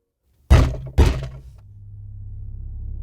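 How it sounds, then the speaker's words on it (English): Two loud, sharp bangs strike a door in quick succession, about half a second apart, as a sound effect in a winter horror story. A low, steady rumbling drone follows and slowly builds. "the noise, 2 bangs, had just sounded on my door"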